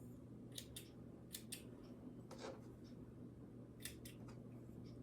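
Scissors snip apart chain-pieced fabric quilt squares, a series of quiet, close double and single cuts in uneven bursts over a low steady hum.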